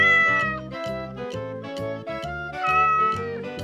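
Kitten meowing, two kittens present, repeated short high mews in a steady rhythm with a steady music bed underneath, close and clear.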